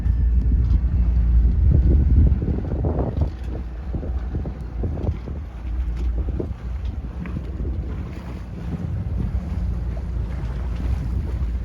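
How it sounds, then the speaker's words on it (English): A small sailboat running in light wind of about 8 to 10 knots under a 150 genoa, with wind buffeting the microphone and water washing past the hull. Loud gusts come early, then steadier rushing. "It's light winds. It's about maybe 8 to 10 knots."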